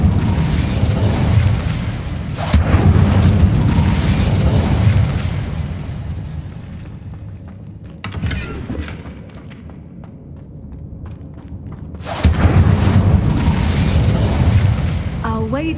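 Incendio fire spell blasts in Hogwarts Legacy burst out repeatedly, with loud roaring whooshes and booming rumbles that swell and fade, separated by quieter stretches.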